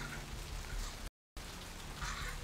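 Steady rain falls in the video game Vampire: The Masquerade – Bloodlines, a constant even hiss with one brief dropout of silence.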